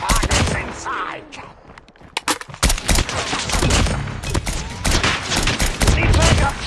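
Call of Duty Mobile firefight with dense bursts of automatic gunfire and single shots, loud and close, running continuously with brief lulls and voices mixed in underneath.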